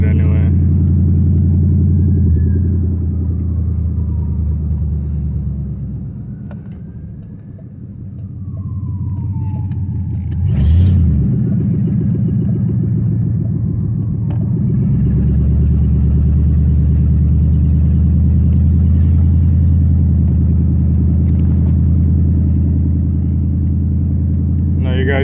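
A 1988 Ford LTD Crown Victoria cruising through a residential neighborhood, its steady low engine and road rumble continuous throughout, with a brief louder surge midway and faint talk inside the car.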